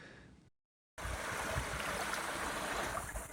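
Creek water rushing steadily past a small hydro intake pond with intake pipes, a continuous broadband wash that cuts out briefly near the start before resuming loud and close.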